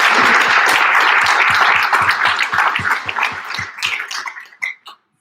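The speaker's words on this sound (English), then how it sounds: "I would like to ask for another round of applause for all our candidates." Dense audience applause for candidates at a 2020 primary candidate forum, loud at first and then thinning into scattered individual claps that die out within about five seconds.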